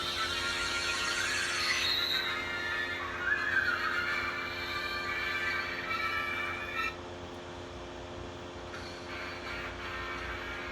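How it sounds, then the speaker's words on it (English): A bright electronic jingle from a Hyakujuu Sentai Gaoranger G-Phone toy's transformation sound, with synthesized tones and effects, fairly faint, playing for several seconds before fading to a lower steady hum. "here's the henshin sound"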